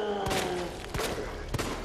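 Several gunshots ring out in Resident Evil 2, a quick burst of sharp cracks spaced through under a second and a half, each with a short echoing tail over a low ambient background.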